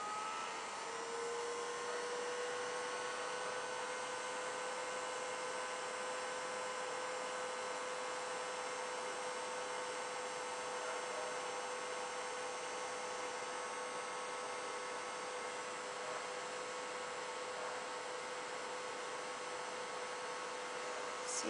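A hair dryer runs in one steady, faint whine and rush for the whole stretch, blowing on fresh white paint on a handmade gingerbread Christmas ornament, with no talking.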